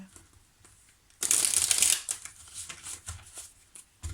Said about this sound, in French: Je vais mélanger comme ça.